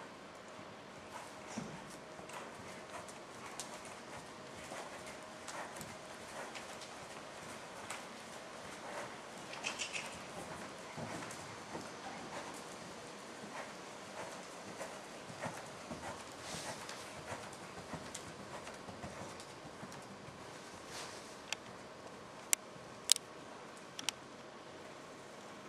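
Horse hooves clip-clop in a steady rhythm during a riding lesson, faint and somewhat distant, with occasional louder thumps, faint bird calls and a little background voice.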